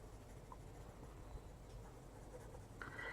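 Quiet, steady scratchy strokes of a Prismacolor colored pencil shading on paper, soft and close, continuing without pause.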